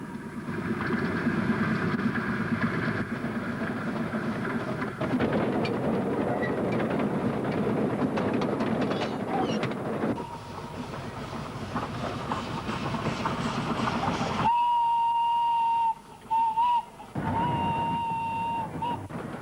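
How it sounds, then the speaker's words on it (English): A small steam train on Tasmania's Bush Mill Railway near Port Arthur rumbles and clatters steadily along the track, then its whistle sounds in a few short, high blasts near the end. "one of the world's great little steam trains, Tasmania's Bushmill Mountain Railway"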